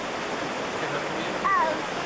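Water pouring into a steam train's tank at a water stop on the Durango–Silverton line: a loud, continuous rushing roar, with a brief voice near the end.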